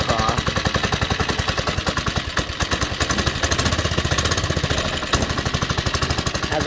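A Predator 212 small engine on a Baja doodlebug minibike runs loud and close with a rough, rapid chugging beat after the choke is pulled off, pulsing steadily throughout.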